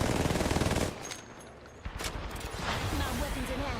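A Buster rifle fires in a video game, a rapid rattling burst of shots up front, then a pause and further blasts and game effects, with a voice speaking over the action.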